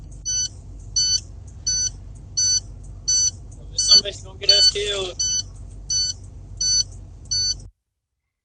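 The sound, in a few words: warning beeping inside a truck cab on a played video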